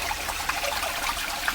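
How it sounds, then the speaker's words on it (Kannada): Spring water trickling steadily from a temple shrine near Halebidu, Hassan, a continuous soft, bright dribble heard close up with no voices. "ಇಲ್ಲಿ ಮಾತ್ರ ಸ್ವಾಮಿ ಪಾದದಿಂದ ನೀರು ಹರಿತಾ ಇರೋದು"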